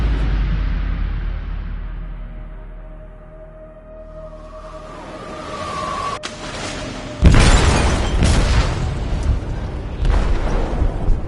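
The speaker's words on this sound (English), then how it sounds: "They detonated an explosive in the hold." In Detroit: Become Human, an explosive detonates in a ship's hold: a low rumble and fading tone build before a sudden loud blast, followed by sustained crashing, roaring debris and rumbling.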